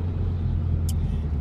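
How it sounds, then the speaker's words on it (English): A small truck drives by on a road in cold, wet conditions, giving a steady, close low rumble of engine and tires with a brief hiss of air partway through, and no voices. "This little truck got out in front of me."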